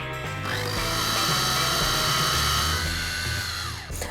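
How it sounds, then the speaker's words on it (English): A kitchen machine grinding hot sesame seeds into tahini, giving a loud, steady whirring drone that runs for about three seconds before winding down. "After making the machine work for a minute, I stop it."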